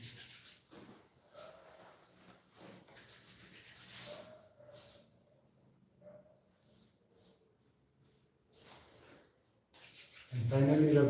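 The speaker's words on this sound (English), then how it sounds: "And you can rub your hands again and again to get that warmth in your hands." Palms rub briskly together again and again during a yoga class, soft close swishing strokes in uneven bursts, with a louder sound breaking in at the very end.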